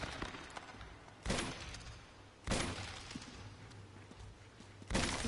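Three sharp gunshots spaced well apart ring out as ice is shot in the video game Uncharted 2, each a loud broadband crack with a short decay over a low, steady game ambience.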